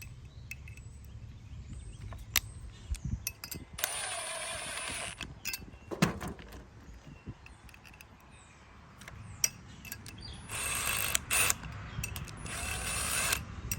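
Bolts being tightened down on a switch plate for a Big Dutchman hopper, with scattered close clicks and ratcheting metal taps and a few short bursts of rapid ratchet whirring, fairly faint against a quiet background.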